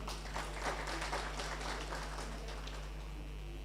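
An audience applauding at a new students' orientation, a steady patter of many hands clapping at moderate distance over a constant low electrical hum.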